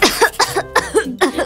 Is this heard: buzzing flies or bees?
no